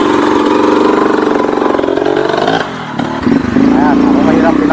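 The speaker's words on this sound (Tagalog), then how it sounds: "Nag-iiyak yung motor nila." Several trail motorcycles strain and whine along a slippery virgin forest trail, engines revving loudly and near, dipping briefly before surging again, with voices talking over the engine noise.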